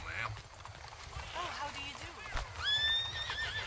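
Horse neighing and whinnying with hooves clip-clopping in the video game Red Dead Redemption 2, a couple of rising whinnies near the end over steady background game sound, with talking across the clip.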